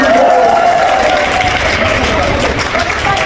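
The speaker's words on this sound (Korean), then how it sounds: "박수 한번" Steady applause from a church congregation at a cafe opening and all-member walking event, dense and sustained for the whole stretch, with voices murmuring underneath.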